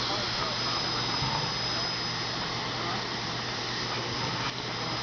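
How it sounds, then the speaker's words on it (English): Steam locomotive 765 venting thick steam from its cylinder cocks on a muggy day, a loud continuous broadband hiss and roar that stays steady and close throughout. "look at the dramatic steam coming off the cylinder cocks of the engine"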